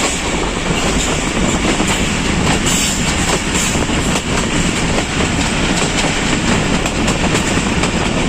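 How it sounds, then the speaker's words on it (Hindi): The Kohat Express rolls through mountains with a loud, continuous rumble of wheels on rail, faint rhythmic clicking and a steady roar throughout. "ट्रेन पहाड़ों में बल खाती हुई चल रही है"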